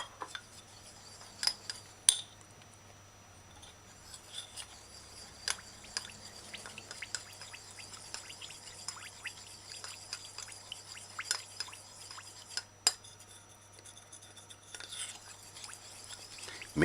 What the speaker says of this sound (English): So stir it in properly and make sure that it's dissolved